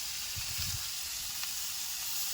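Fresh fenugreek leaves sauté in a pan with red chili and garlic, giving an even, steady sizzling hiss that stays constant throughout, close and moderately quiet, with faint low rumbles underneath.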